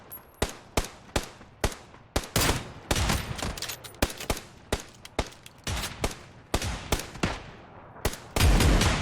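Loud automatic gunfire in the battle royale game PUBG, a rapid run of sharp close shots in bursts with brief gaps, ending in a heavier boom.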